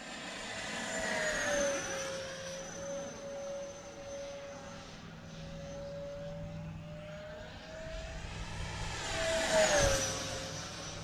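An E-Flite F-15 Eagle 64mm EDF model jet makes a high-speed pass, its whining ducted fan swelling as it approaches and then fading as it moves away, with no voices.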